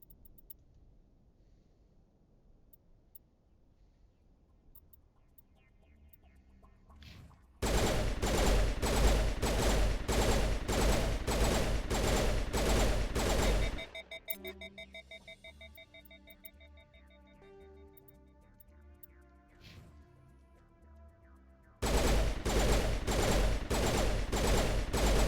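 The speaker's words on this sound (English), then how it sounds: "I have to take some test firing here. Oh, it's burst fire as well." Burst-fire weapon test firing in Mass Effect: long stretches of loud, evenly spaced rapid shots, a pause with a ringing tonal tail, then another loud run of rhythmic fire.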